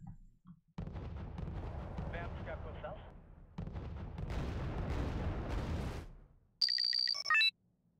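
Mortar and artillery fire in the Wargame: Red Dragon video game, heavy booming barrages rolling in two long bursts, followed by a short electronic tonal beeping at the end.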